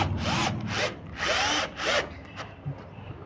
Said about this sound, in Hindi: जहां हमने ड्रिल किया है अब हम वहां स्क्रू कर लेंगे।